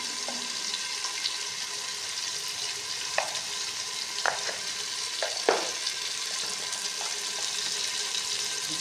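Crushed red chili frying in hot oil in a pan for a chicken dish, a steady sizzle broken by a few short stirring scrapes.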